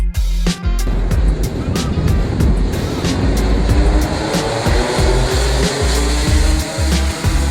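Sealed Rotax 125 Max racing kart engines at the 2008 Rotax Max Challenge Grand Finals in La Conca, Italy: a loud, continuous buzzing roar of several karts, with revs rising and falling as they pass.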